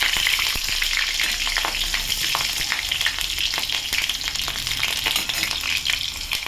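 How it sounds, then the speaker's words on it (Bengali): Five or six slit green chillies frying in hot oil with black cumin for ilish macher tel jhal, with a continuous bright sizzle and occasional stirring clicks. It is loud and close, with no talking. "কয়েকটা 5-6টার মতো কাঁচামরিচ চিড়ে চিড়ে দিয়ে দিলাম। নেড়ে দিলাম।"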